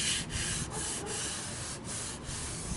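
A kayak hull sanded by hand with 220 grit sandpaper outdoors, a close continuous scratchy rasp with several brief pauses between strokes, no talking.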